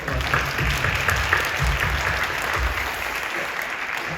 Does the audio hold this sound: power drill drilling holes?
no